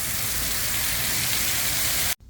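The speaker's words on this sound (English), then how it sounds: "And the rain just started." Steady rain pouring down outdoors, a loud, dense, even hiss of drops on surfaces, close by, cutting off abruptly at the end.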